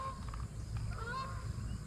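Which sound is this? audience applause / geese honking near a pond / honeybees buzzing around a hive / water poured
geese honking near a pond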